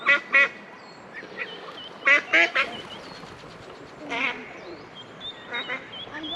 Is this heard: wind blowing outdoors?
no